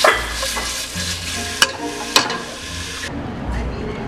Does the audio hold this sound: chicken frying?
yes